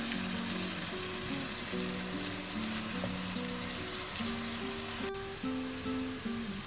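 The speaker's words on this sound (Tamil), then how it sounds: "இது நல்லா ப்ரௌனாக வர வரைக்கும், கிறிஸ்பியாக வர வரைக்கும் பொரிச்சிக்கலாம்" Food frying in hot oil until brown and crispy for chicken biryani, a steady dense sizzle with bubbling crackle running throughout, close and fairly loud, with no voices.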